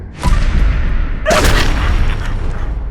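Two heavy gunshot booms from the video game Fallout 4, about a second apart, each trailing into a long rumbling echo, loud and close.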